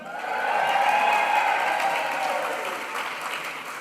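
A crowd at a graduation ceremony cheers and applauds for the graduating class of 2025, a loud roar of voices and clapping in a large hall that peaks early and slowly fades.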